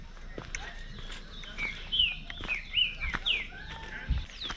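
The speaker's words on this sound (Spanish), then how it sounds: "Escuchás los pájaros." Birds chirp and trill in short, repeated calls over an outdoor riverside background at Arenas Blancas on the Gualeguay River, with scattered rustles and thumps, moderately close.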